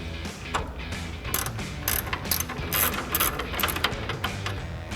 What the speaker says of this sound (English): We're going to grab our 19 mil ratcheting wrench and our 19 mil wrench to do that now.